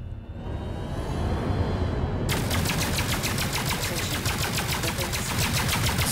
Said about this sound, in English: So I've been continuously firing the lasers for about, I don't know, 3 or 4 minutes now.